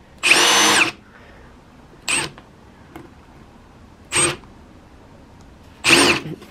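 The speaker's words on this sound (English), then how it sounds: "Making a dent first will make sure that the hole saw doesn't walk." Power drill fitted with a hole saw, boring holes for a quail feeder, runs in four short bursts: one long whirring spin, then three brief ones separated by quiet pauses, close and loud.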